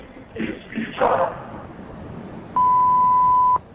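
An answering machine gives a single steady, clean electronic beep about a second long before a phone message is left, following a brief muffled burst of noise.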